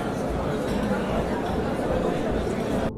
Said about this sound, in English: children leaving school